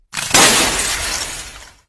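Glass shatters in one loud burst, and a spray of shards rattles and tinkles on for over a second before stopping abruptly.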